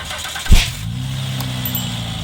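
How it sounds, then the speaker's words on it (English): A modified Honda Accord engine cranks and catches with a sharp burst, then settles into a steady, low idle that rumbles on evenly. "right now we'll be able to listen how this engine sounds."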